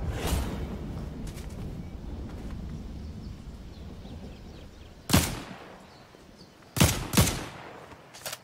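Gunfire from a gun in Fortnite: three sharp, loud bursts, one single shot and then two close together, breaking through a steady bed of game ambience near the end.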